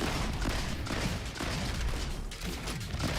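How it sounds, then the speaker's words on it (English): Sawed-off shotguns blast repeatedly in the RoboQuest video game, a dense, continuous barrage of loud overlapping shots with heavy low-end impact and no pauses. "Oh, I gotta pull out these sawed-off shotguns. They do some big damage."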